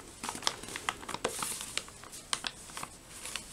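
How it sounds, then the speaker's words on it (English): Close crinkling of plastic packaging from a Canadian military ration, with irregular snips and rustles, scissors working through the wrapper in short bursts. "I'm going to use scissors for that."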